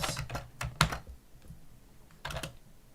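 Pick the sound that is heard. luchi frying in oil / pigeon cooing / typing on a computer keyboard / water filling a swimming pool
typing on a computer keyboard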